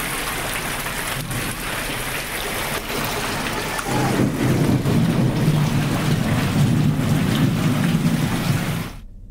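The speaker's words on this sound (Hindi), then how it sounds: "दंतेवाड़ा में गरज चमक के साथ बारिश हुई, जिससे तापमान में गिरावट हुई" Rain with thunder during a storm in Dantewada, a steady loud wash of rainfall that swells and grows heavier midway, with low rumbling underneath, then cuts off abruptly near the end.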